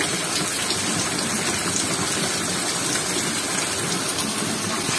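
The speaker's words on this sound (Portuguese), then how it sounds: "Chuvazinha insana" A loud, constant downpour in Ceará, northeastern Brazil, drums and hisses nearby, thick and steady throughout, with no speech.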